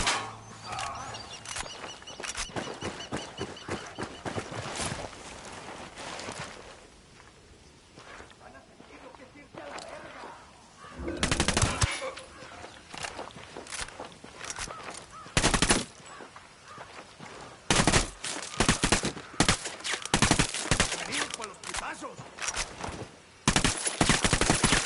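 Gunfire in the video game Ghost Recon: Wildlands, with sharp loud shots and short bursts cracking out in clusters over a quieter stretch of game ambience, with voices talking at times.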